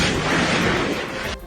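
A powerful explosion during a rescue operation in Khan Younis, Gaza, heard as a loud, dense roar that holds for over a second and then cuts off sharply, leaving a fainter low rumble.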